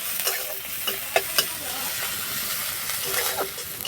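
Chopped garlic, ginger, onion and green chili fry in a couple of spoons of oil with whole cumin, a continuous close sizzle broken by clicks and taps of a stirring spoon against the pan.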